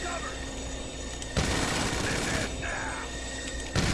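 Bursts of rapid gunfire in GTA 5 crack out loudly over a steady background hum, stopping briefly and then starting again at the end.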